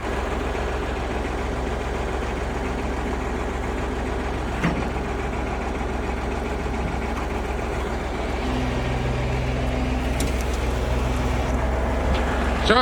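A YTO tractor setting out to sow corn in the fields of Poltava region, its heavy diesel engine rumbling low and steady at close range throughout, with faint clanks on top and no clear talk.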